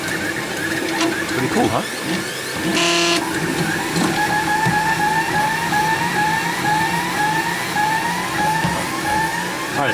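3D printer building a print, its stepper motors whining in repeating rising and falling tones with whirring and clicking, loud and close, while someone speaks briefly.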